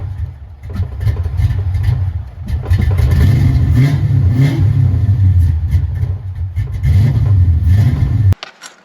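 A Foxbody Mustang V8 runs after a cold start, now firing on all eight cylinders. It's a loud, close, deep rumble with several rising revs before it cuts off abruptly near the end.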